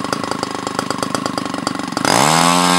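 An O.S. GT33 gasoline model aircraft engine on a thrust test stand, a loud, close, rapid buzzing idle that jumps sharply in pitch and volume as the throttle opens.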